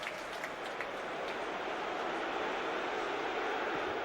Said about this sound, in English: Crowd encouraging him to shoot,